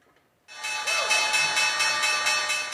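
A bright Wall Street stock exchange closing bell rings steadily and continuously, loud and close, with a sustained metallic clang that persists after an abrupt start.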